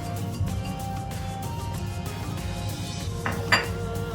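A spoon stirs and clinks against a bowl as oil, salt, spices and garlic are mixed into a sauce for oven-baked salmon, giving a steady close scraping with a couple of brighter taps near the end.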